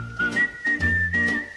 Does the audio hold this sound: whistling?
yes